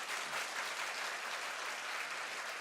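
A church congregation claps together during a sermon, a steady, dense wash of applause that holds evenly from start to finish with no voices on top.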